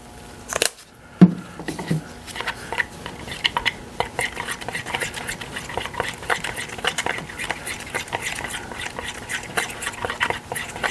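White paint being stirred into epoxy in a mixing cup: a steady, close scraping and clinking of a stirrer, after a sharp knock near the start, continuing rhythmically throughout.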